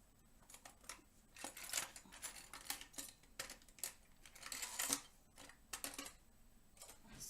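Clean kitchen utensils rattle and clink as someone rummages through a box of them, with irregular bursts of close clattering and no talk.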